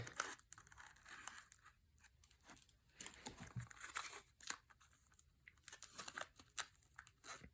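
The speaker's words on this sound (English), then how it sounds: "Should be able to just slit this plastic wrap if I can find the scissors." Scissors slitting plastic wrap on a boxed AT&T desk phone with cassette answering machine, a quiet close crinkling and tearing in irregular bursts.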